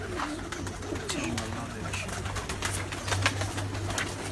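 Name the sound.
pigeons cooing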